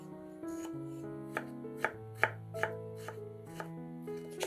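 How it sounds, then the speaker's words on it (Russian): Several crisp knife chops on a cutting board as garlic cloves are cut, spaced irregularly, close and clear over a soft sustained musical background. "Нарезаем 1-2 зубчика чеснока."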